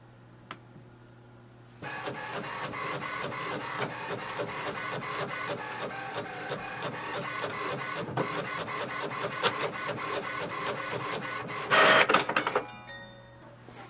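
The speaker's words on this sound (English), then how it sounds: "So here we can see it has printed the welcome sheet." An HP Envy 6022 inkjet printer prints a welcome sheet: a short hum, then continuous rhythmic mechanical clicking and whirring of the paper feed and print head, ending in a louder burst of motor whine as the page ejects.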